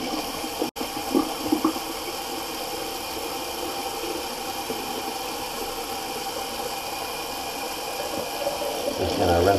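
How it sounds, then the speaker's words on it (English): A shaving sink full of water drains out in a steady, close, rushing gurgle that holds evenly throughout and swells slightly near the end. "just going to empty the sink"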